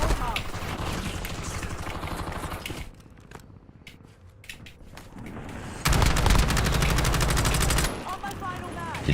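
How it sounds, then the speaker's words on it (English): Bursts of gunfire in a Call of Duty Warzone match, a dense rattling stretch at the start, then sharper shots after a quieter gap, including a loud heavy volley around the middle, with voices talking over parts of it. "Oh, we're getting sniped."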